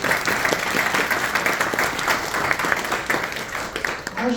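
An audience at a community tech event gives a steady round of applause, dense overlapping clapping from many hands with faint crowd murmur mixed in, continuing at even strength before tapering at the close.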